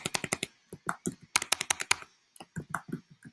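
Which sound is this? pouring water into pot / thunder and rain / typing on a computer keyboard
typing on a computer keyboard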